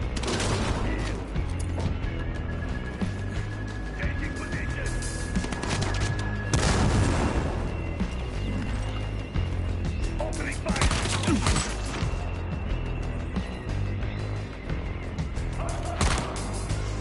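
Rifle gunfire in the video game Dying Light The Beast, loud repeated shots and booming impacts over a dense, busy game soundscape with several sharp bursts.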